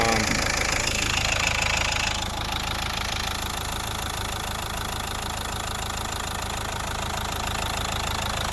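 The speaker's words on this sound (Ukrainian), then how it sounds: "Ось робота двигуна." A 2010 Nissan Qashqai 1.5 dCi diesel engine idles steadily at close range, a continuous low rumble with faint mechanical ticking and broadband noise throughout.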